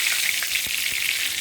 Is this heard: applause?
no